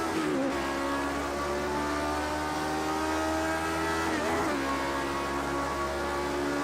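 Race car engine from the 1967 French Grand Prix in Project Cars 2, droning steadily through a corner with layered harmonic whine, a brief dip in pitch as the car rounds the bend, loud and continuous with no talk.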